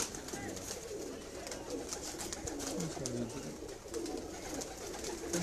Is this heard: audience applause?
no